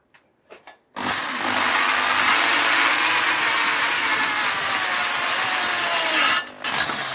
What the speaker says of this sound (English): want to step drill through there